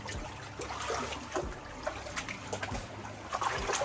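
Cold water flows through the old Malethा irrigation tunnel in Uttarakhand, a steady close trickle and slosh with scattered splashes, as if someone is wading, and no talk.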